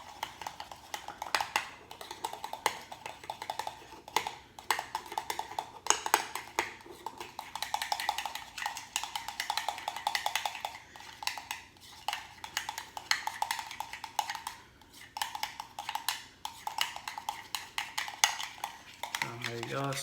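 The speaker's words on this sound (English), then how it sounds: "let's give that a little mix." Spoon scraping and clinking steadily around a bowl while stirring Herbalife donut frosting tinted with green color, a soft, continuous rhythm of taps and swishes, close and fairly quiet.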